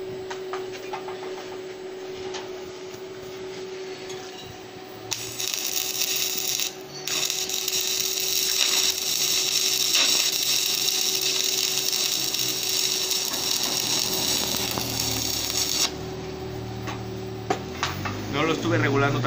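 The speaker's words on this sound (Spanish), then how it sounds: "para poder soldar, vamos a aplicar un cordón de soldadura en forma de una letra" Welding a bead on 14-gauge PTR steel tube, a steady loud crackling buzz that starts abruptly partway in, runs continuously for about ten seconds, then stops, with a low background hum.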